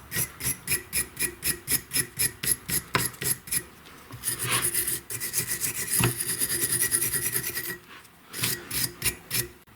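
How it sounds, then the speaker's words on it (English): A wire brush scrubs the muffler parts of a STIHL MS194T chainsaw with rapid, regular rasping strokes, then one longer continuous scrub, then more short strokes. The scraping is close and gritty. "clean it up with the wire brush again."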